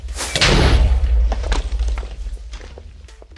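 A micro missile explosion in Minecraft: a loud, close blast that swells into a heavy rumbling boom and then fades over a few seconds, with scattered thuds of debris trailing off.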